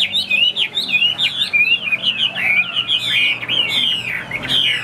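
A Chinese hwamei songbird sings loudly and close, pouring out rapid, varied whistled phrases and trills without pause.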